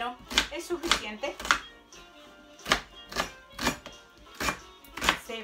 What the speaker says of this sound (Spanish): Voy a picar una pequeña cebolla